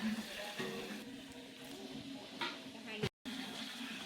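Water runs from a village tap as women fill containers, a continuous rushing stream with voices talking over it and a sharp clatter just before a short break.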